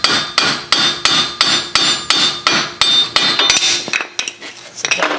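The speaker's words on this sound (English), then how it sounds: "Just going to tap that back in some more now because I know it's loose." A hammer strikes the ball joint shaft on a 2011 Kia Sorento: a dozen or so sharp metallic taps, close and loud, at a steady beat before turning quicker and irregular.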